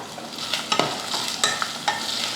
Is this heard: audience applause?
no